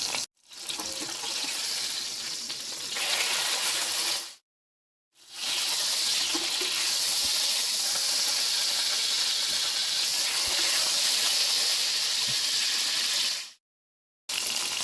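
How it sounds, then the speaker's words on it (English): A steak sizzles loudly in hot oil in a kitchen pan, a dense, steady hiss broken by two short silent gaps, with no talking over it. "You can hear that sizzle."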